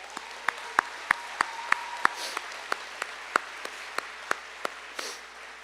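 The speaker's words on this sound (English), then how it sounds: "So if we can give a round of applause, everybody" Steady hand claps from a graduation audience repeat at a regular, even pace over a quiet background hiss.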